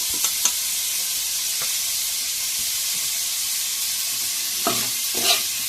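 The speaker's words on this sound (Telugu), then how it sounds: "కొద్దిగా ఫ్రై చేసుకున్న తర్వాత దీంట్లోని మష్రూమ్స్ కూడా వేసేసుకోవాలి" Mushrooms frying in a pan for a homemade curry, with a continuous hiss of frying and occasional scrapes as they are stirred, close and unaccompanied by speech.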